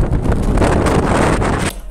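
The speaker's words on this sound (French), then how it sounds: "vous pouvez sentir le vent." Wind buffeting the microphone on the outside deck of a ferry nearing Calais, a loud continuous roaring gust that drops off abruptly just before the end.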